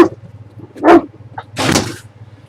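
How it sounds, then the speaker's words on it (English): A dog gives two short, sharp barks close by, separated by a brief quiet pause, over a low background hum. "Not loud barking"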